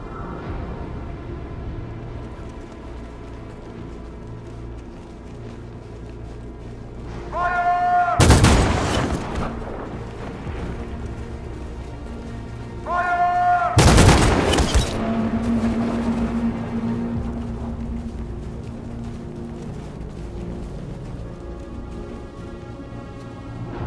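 Two loud gunfire volleys tear through a tense crowd scene as police open fire on unarmed android protesters in Detroit: Become Human, each burst sharp and sudden over a steady ambient bed, with rumbling aftermath between them.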